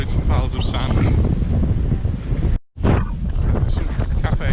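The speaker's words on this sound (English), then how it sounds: "It is very, very windy, very blustery." Strong gusty wind buffets the microphone on a seaside walk from Portixol to Cala Gamba in Mallorca, a loud, continuous roar with one brief dropout and a voice speaking underneath.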